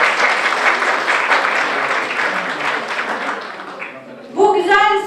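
An audience at a breast cancer awareness talk applauds the doctors with a loud, dense burst of clapping that fades toward the end, after which a voice begins speaking over the dying applause.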